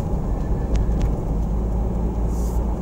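Loud, steady road roar from new aggressive tires heard inside a moving vehicle, a continuous low rumble with no breaks through the whole stretch.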